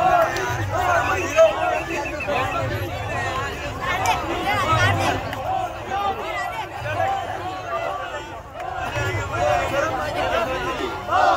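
A roadside crowd chants "Modi Modi" slogans as a chief minister's car stops, a steady, rhythmic mass of voices and hubbub heard at middle distance throughout.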